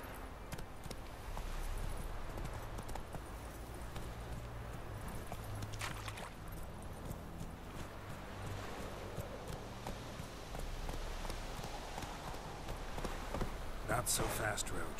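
Roach the horse walks in The Witcher 3 with a steady clip-clop of hooves throughout, under someone talking and game background sound.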